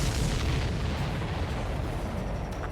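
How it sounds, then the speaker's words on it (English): An enemy supply ship exploding in the video game Ace Combat 7, a sustained, heavy roar of blast noise that stays loud and rumbling across the whole stretch. "Did you see that explosion?"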